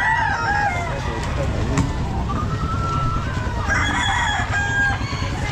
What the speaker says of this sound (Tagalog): Marami pa atang manok si sir oh.